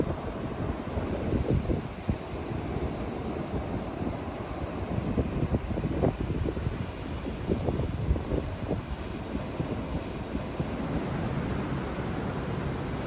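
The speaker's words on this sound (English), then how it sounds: "definitely a lot more windy over this side." Strong wind buffets the microphone in a steady roar with gusts rising and falling throughout, and no voices, on the windward side of Niue.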